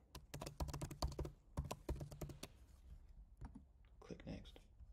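Typing on a computer keyboard, close rapid bursts of crisp key clicks that pause and resume, followed by a few sparser taps and a brief rustle.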